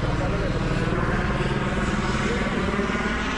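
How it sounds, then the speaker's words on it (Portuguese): A helicopter in a video game gives a steady, loud rotor and engine drone with a low, rhythmic thumping that holds constant throughout. "Opa, helicóptero?"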